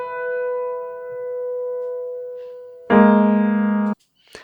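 A piano tone sustains softly, then cuts to a loud, grimy, gritty pitch-shifted burst about a second long from SoundThread's Divide process that buzzes harshly and stops abruptly, followed by a faint click.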